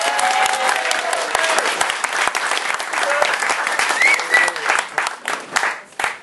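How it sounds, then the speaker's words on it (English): Wedding guests clapping for the groom during the father's speech, a loud, lively burst of applause with a few cheers and whoops mixed in, tapering off unevenly toward the end. "Round of applause for Ant"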